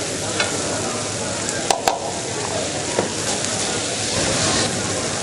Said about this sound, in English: We're sauteing now.